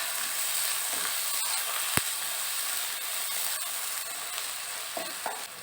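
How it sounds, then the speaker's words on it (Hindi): Finely chopped tomato goes into a hot pan of masala for a cluster bean sabji and is stirred, giving a steady close sizzle with scraping and stirring clicks. "अभी इसमें एक फाइनली चॉप किया हुआ टमाटर ऐड कर लेना है और मिक्स कर लेना है।"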